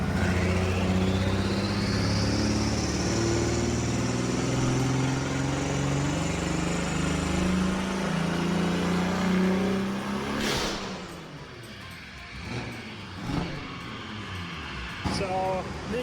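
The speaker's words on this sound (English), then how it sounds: "It sounds way better now. And the turbo spool is insane." Heavily modified BMW F80 with a big turbo conversion revs loud and close, its engine note climbing steadily as the turbo spools up, then breaks off at about ten seconds into short bursts of blow-off and wastegate chatter.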